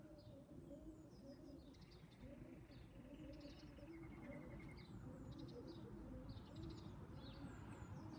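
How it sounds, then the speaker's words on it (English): Many mixed canaries chirp and trill in short, busy bursts in a bird loft over a constant rumbling background and some low cooing, sounding moderately close, with no one speaking. "That's all mixed canaries singing away."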